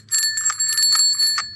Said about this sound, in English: One of the most important ads that he's put on this bike, if I can make it work, that's a bell.